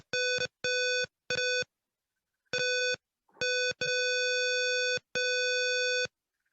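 An electronic alarm in a password lock simulation beeps in a loud repeating pattern of steady tones, several short bursts followed by longer sustained ones, with brief silences between.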